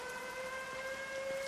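A steady, faint siren tone drones in the game Everybody's Gone to Rapture, holding level and unbroken throughout.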